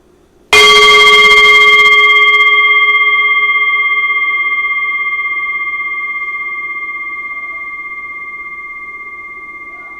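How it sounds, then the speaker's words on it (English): A singing bowl struck once, opening with a bright attack and then holding a long, pure ringing tone with steady overtones that slowly fades over about ten seconds, alone in a quiet room. "it's not the same as ringing the singing bowl as we were able to do in my home"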